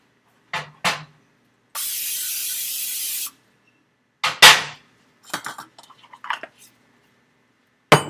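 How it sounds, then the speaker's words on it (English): Non-stick cooking spray hisses onto a baking dish during cheese enchilada prep: one steady spray burst of about a second and a half, set among a few close clinks and knocks of dishes and utensils. "we'll spray our baking dish with the non-stick cooking spray."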